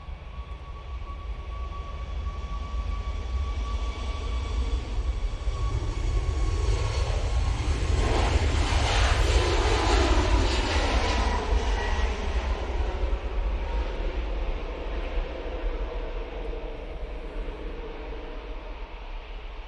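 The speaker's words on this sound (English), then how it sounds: "Off to Cologne Bonn Airport we go with this 737 MAX 8." A Boeing 737 MAX 8 departs Manchester Airport for Cologne Bonn, its jet engines making a loud sustained roar that swells to a peak midway as it passes and then slowly fades.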